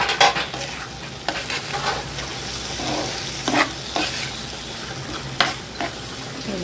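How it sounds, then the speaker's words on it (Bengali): Dried fish sizzles steadily in a frying pan, with a spatula scraping and stirring it at irregular intervals. The sounds are close and moderately loud, and no one speaks. "শুটকি ভাজা হয়ে গিয়েছে"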